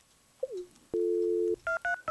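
A phone dials in Stardew Valley Expanded: a short sliding tone, then a long steady beep and two quick paired dial-tone bursts, clear and close with no talk.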